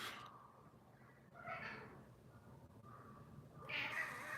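A house cat gives several drawn-out, moderately close meows with gaps between them, the last one the loudest, over a quiet room background.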